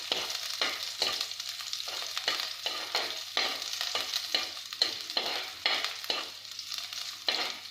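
Finely chopped garlic sizzles in a hot pan while a spoon stirs it in repeated bursts, the frying hiss swelling with each scrape in a close, steady rhythm, all without talk.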